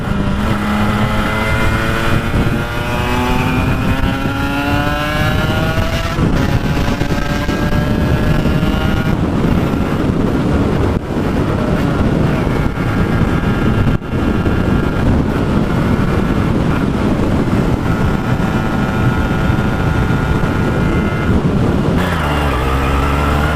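Aprilia RS 125 two-stroke motorcycle engine accelerating hard, a loud, close, buzzing whine climbing in pitch through several gear changes over about twenty seconds.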